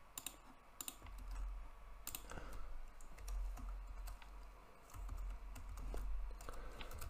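Keys clatter on a computer keyboard during JavaScript coding, coming in quick bursts of clicks with short pauses between them. The sound is close but faint and low in level.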